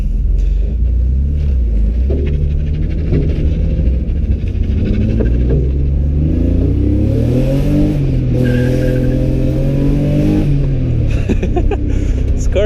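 A drift car's engine revs hard, its pitch climbing and falling in repeated surges over a deep, continuous rumble, loud and close, with voices faintly underneath.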